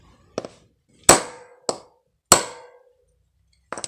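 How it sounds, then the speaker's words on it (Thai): A hammer drives a concrete nail to push the pin out of a motorcycle chain: five sharp, close metallic strikes at an irregular pace, each ringing briefly before fading, with silence between and no speech. "ใช้ตะปูตอกคอนกรีตนะครับตี"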